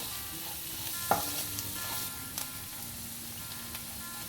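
Ivy gourd fry with fresh coriander being stirred in a hot pan, a soft continuous sizzle with a few light scrapes and taps from a spoon, fairly quiet and with no talking.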